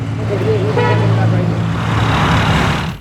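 Car horns toot over road traffic in a traffic jam, a sustained honk sounding close and loud above the steady rumble of vehicles.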